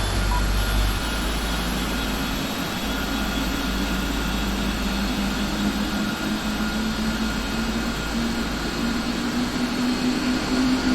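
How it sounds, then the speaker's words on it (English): Jet engines 2 and 1 of a PMDG 747 spool up in the Prepar3D flight simulator game, a steady roaring drone with a slowly rising whine that holds at a constant level throughout, with no talk. "Let's start engine 2 and 1."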